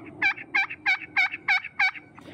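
Push pin turkey call worked by hand to make clucks: six sharp, evenly spaced clucks in a steady rhythm, close and clear, with no talking.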